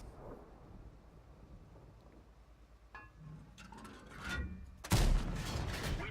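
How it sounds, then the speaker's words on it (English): Tank shell striking and bouncing off an enemy turret in World of Tanks, a sudden loud metallic impact crack near the end after a rumbling build-up of distant battle noise and engine drone. "That bounced off the side of his turret."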